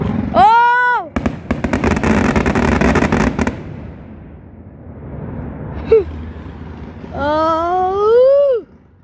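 Fireworks explode in a dense crackling volley for a couple of seconds, followed by a lone pop, with excited voices exclaiming loudly before and after the bursts.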